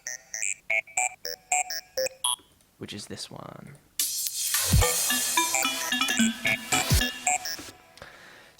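A randomised synth arpeggio plays rapid, stepped bright notes in short pulses, followed by a brief spoken line and then a denser, louder synth passage with sweeping tones.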